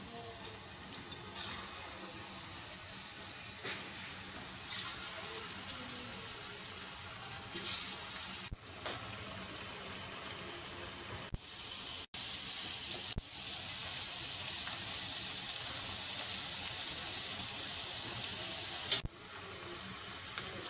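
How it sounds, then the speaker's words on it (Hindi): Potato finger chips fry in hot oil with a dense, steady hiss and crackle that holds for about twenty seconds, with a few brief knocks and clatters near the start and no talk. "ऑयल अच्छी तरह गर्म हो गया है, अब हम इसमें चिप्स डालेंगे"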